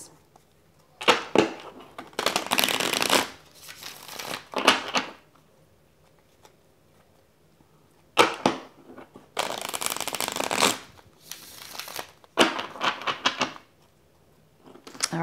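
Tarot cards being shuffled in several bursts of crisp riffling and flapping, with short quiet pauses between bursts, close up and fairly loud.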